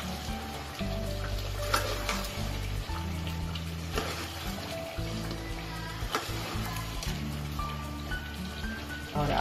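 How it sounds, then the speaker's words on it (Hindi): Potatoes go into a pan of frying aloo gosht meat curry, giving a steady, close, dense sizzle with crackling spatters throughout. "अब हम इसमें आलू डालेंगे।"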